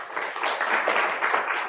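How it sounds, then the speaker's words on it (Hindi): A seated audience at a Brahma Kumaris spiritual class in Fatehpur gives a short round of moderately loud, close clapping that rises and falls in quick waves. "ताली तो बजाओ"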